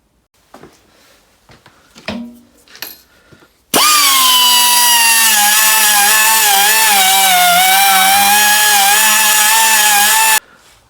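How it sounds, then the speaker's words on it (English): A power tool fitted with a sandpaper flap wheel polishes an exhaust manifold port while it is matched to the cylinder head ports. It gives a loud, sustained high whine for about seven seconds, with its pitch wavering under load, after some quieter handling clatter. "what do we call these, sandpaper wheel things. Just polish it up a bit."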